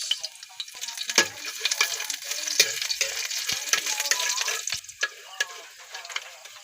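Garlic frying in hot oil in a Filipino home kitchen, a steady close sizzle with scattered pops and occasional spatula scrapes, no talking over it.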